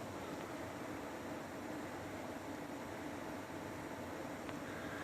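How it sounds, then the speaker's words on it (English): A large Daikin two-zone multi-split air conditioning unit runs steadily at high speed, giving a constant broad whooshing roar with no breaks. "Large units do make some noise when they're on high speed."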